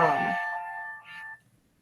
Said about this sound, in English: Sorry, I was getting a call